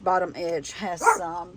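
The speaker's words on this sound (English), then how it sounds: "sorry about my dog barking." A pet dog barks several times at a neighbor working in the yard, a sequence of sharp, loud yelps and bow-wows, close and clear indoors.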